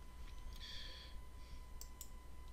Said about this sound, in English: I'm just clicking on delete.